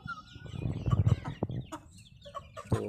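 A hen clucks close by in a few short, uneven bursts, some sharper than others, with no talking over them.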